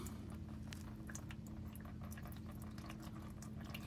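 Fuel draining from the removed filter housing of a Ram 3500 Cummins 6.7 HO, a steady low bubbling, trickling flow that continues without break throughout.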